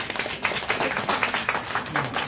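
Clapping from an audience at a Bengali cultural celebration, during a memento presentation, dense and lively with irregular sharp peaks from individual hands, fairly near, with faint voices mixed underneath.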